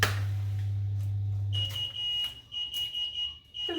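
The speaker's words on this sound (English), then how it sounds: "my pie is ready. So I'll turn that alarm off" Kitchen timer alarm going off as a chocolate cream pie finishes baking, a steady high electronic tone sounding over the low hum of a mixer that stops partway, with some clattering.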